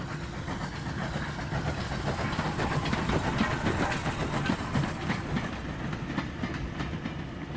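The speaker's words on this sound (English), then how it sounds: "This was the midnight meat train." A train runs on rails as a radio play sound effect, a steady rolling rumble with rhythmic clickety-clack of wheels over track joints, moderately loud and continuous with no voices.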